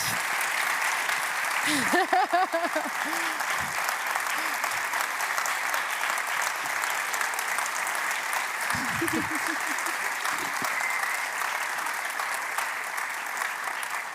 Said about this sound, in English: A big round of applause, everyone, for Noemi.